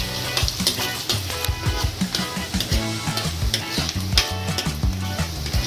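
Onions fry in a pan for Punjabi stuffed eggplant, a continuous loud sizzle with scraping stir strokes and clinks of the spoon against the pan, steady and close throughout.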